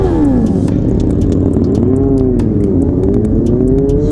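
A moped engine revs loudly and continuously, its rising and falling pitch close by, among other motorcycles gathered at a Halloween stunt ride.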